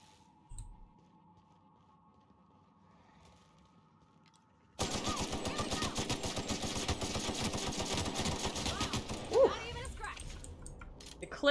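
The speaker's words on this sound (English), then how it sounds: "The clip had just enough ammo for me to bring that thing down before it hit me" Rapid automatic gunfire from a weapon in the video game The Outer Worlds, a dense sustained burst beginning abruptly after a quiet stretch and continuing loudly for several seconds to the end, with a voice faintly heard before it.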